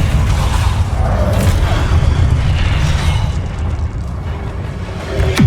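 A Depulso spell cast in the video game Hogwarts Legacy produces a loud, dense booming blast that rumbles throughout, with a sharp pop at the very end.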